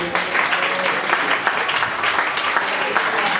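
A church congregation claps at a Spanish-language worship service, a fairly loud, uneven burst of applause with a few sharper individual claps, with a voice faintly heard underneath.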